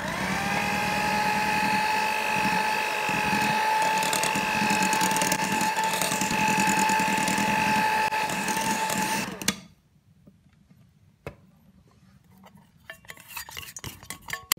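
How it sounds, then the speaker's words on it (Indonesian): Electric hand mixer beating cold butter into egg roll batter, a steady loud whirring drone with a sustained whine for about nine seconds, then cutting off abruptly to near silence with faint clinks. "Kita mixer asal rata aja ya."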